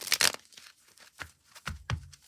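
A pulp tarot deck is shuffled by hand, with close, crisp bursts of riffling and card-on-card rustling followed by softer slides and taps in an uneven rhythm.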